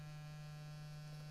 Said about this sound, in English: that's the sound of the battery charger